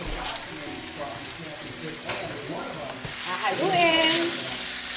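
Pork liver and bay leaves frying in a pan with radish, giving a steady close sizzle that swells louder near the end, with faint stirring underneath.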